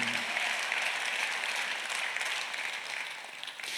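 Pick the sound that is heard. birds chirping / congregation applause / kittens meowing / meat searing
congregation applause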